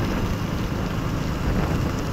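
Steady rain pours down outdoors with a dense, even hiss and patter, continuous and fairly loud throughout, no voices.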